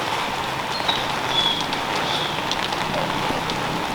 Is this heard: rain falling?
yes